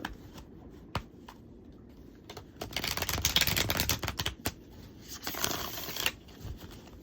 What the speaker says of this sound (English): these cards is a little stiff as I'm shuffling